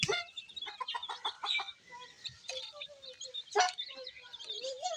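Chickens cluck and call close by in a poultry shed during vaccination, with a busy run of short, overlapping clucks and a few louder squawks across the whole stretch and no talking.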